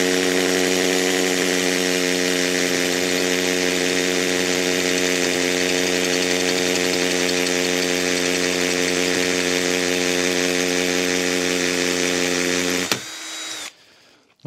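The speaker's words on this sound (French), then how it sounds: "voyons le perçage d'un parpaing" A Ryobi RPD18 cordless hammer drill with an 8 mm bit bores into a cinder block, producing a loud, steady, high-revving hammering whir for about thirteen seconds before abruptly stopping and winding down, with no talking.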